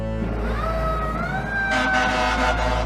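A fire truck siren wails steadily over a deep engine rumble, its pitch sliding up and holding, growing louder and busier toward the end.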